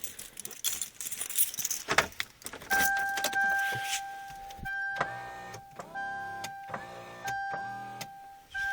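A Toyota Corolla passenger power window motor whirs in steady bursts with a sustained electric tone, pausing and restarting several times while the glass stays put, after some early clattering and handling noises.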